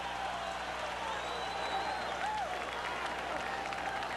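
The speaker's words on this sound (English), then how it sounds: "Forum crowd rises to its feet after a brilliant 4th round." A boxing arena crowd at the Forum applauds and cheers after a round, a dense sustained roar of clapping with a commentator's voice running over it.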